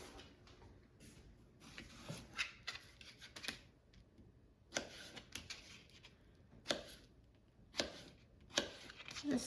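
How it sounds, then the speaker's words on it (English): A kitchen knife chops potato into small cubes on a cutting board, a steady series of crisp, fairly faint taps in uneven bursts, with no talking. "Just cutting it into small cubes."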